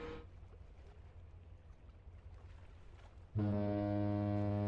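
A ship's foghorn in The Great Ace Attorney Chronicles sounds a loud, sustained low honk that starts abruptly after a stretch of quiet ambient hum and keeps going to the end.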